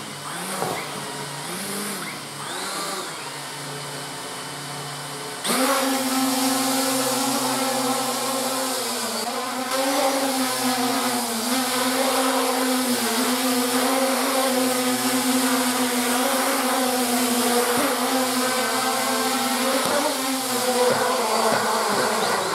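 An Aosenma CG035 quadcopter drone, freshly fitted with a replacement ESC, spins up with a faint whir and then jumps into a loud, close, insect-like buzz of props and motors. The buzz wavers in pitch as it flies on for many seconds.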